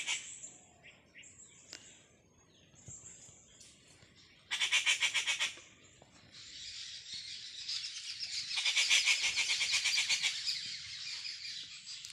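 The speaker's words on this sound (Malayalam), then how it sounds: "കിളികൾ" Birds call inside a bamboo grove, with repeated chirps and tweets, a loud rapid trilling burst midway and a long, fluttering chorus later, all clear and fairly close against a quiet background.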